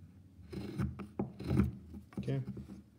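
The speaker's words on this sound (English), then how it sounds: "marking gauge. And again, from the same face, scratch your line" A marking gauge drawn across wood to scratch a line for a corner halving joint, giving several short rasping scrapes in uneven bursts, fairly close.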